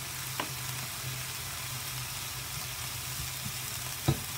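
Vegetables and spices, including cumin, cook in a pan over medium heat, making a quiet, steady sizzle with a low hum and a couple of brief clinks from a utensil.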